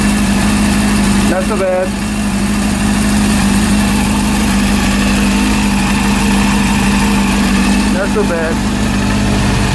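A rebuilt Honda CB400 motorcycle engine idles steadily and loud close by, a constant low throbbing rumble indoors, while someone briefly speaks over it twice.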